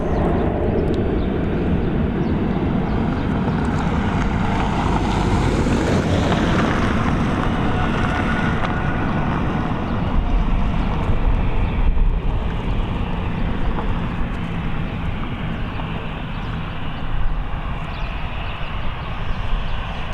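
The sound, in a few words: Ryanair Boeing 737 airplane landing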